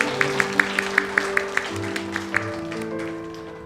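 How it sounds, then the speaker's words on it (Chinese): Congregation at a Mandarin Sunday worship service clapping hands in a steady rhythm of about a dozen sharp claps over sustained music, the claps fading toward the end. "拍掌，将所有荣耀归给我们的天上上主"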